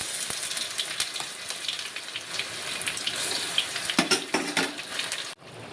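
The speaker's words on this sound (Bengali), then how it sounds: "পেঁয়াজটা ভাজা হয়ে গেছে, এবার এর ভিতরে করে রাখা মশলাটা দিয়ে দেব" A spice paste of ginger, onion, garlic, chilli, tomato, peppercorns and cumin hits fried onions in a pan with a steady, moderately loud sizzle and watery crackle, broken by a few clattering stirs near the end.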